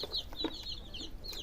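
Chickens cluck outdoors, a run of quiet, quick clucks and chirps from a few birds at a moderate distance, with no talking.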